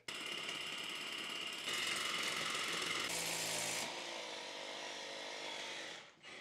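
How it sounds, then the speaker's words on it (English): A power drill bores down through a roof during a house rewire, a steady close whine and grinding that shifts pitch as the bit bites, then winds down at the end. "So I'm gonna drill down, hope we don't hit anything"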